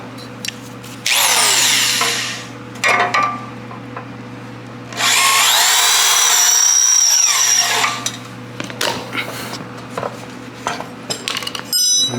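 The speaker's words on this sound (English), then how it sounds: "And drill the hole." A power drill bores through the rear bumper of a 1980s-style Volvo 240 into a wood block set underneath, two loud sustained whining bursts with shorter drill blips and handling noises between them, close by.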